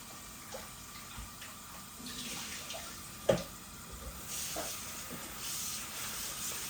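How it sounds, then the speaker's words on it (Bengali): Pieces of rohu fish being washed in water, a soft continuous splashing and trickling close by with one brief sharper clatter midway, no talking. "মাছগুলো আগর ধোয়া আছিল এখন আরো 2বার ধুইলাই"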